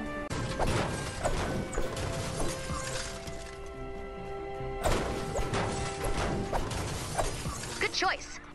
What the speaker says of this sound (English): Try smashing up some cars and trees.